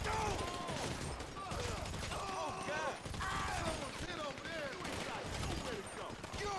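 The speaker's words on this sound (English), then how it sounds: "I'm getting shot from behind" Rapid bursts of gunfire in GTA V, dense overlapping shots with crackling impacts and whistling tones, loud and continuous throughout.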